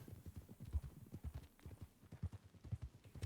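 Horse hooves clip-clop at a steady walking pace in the video game Red Dead Redemption 2, a close, rhythmic series of dull thuds with no other sound.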